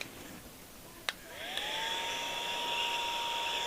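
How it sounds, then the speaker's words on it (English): A mini vacuum cleaner for a sewing room switches on after a click and ramps up to a steady high-pitched whine and airy hiss, running continuously nearby with no talking. "This mini vacuum makes it easy to revive your sewing room."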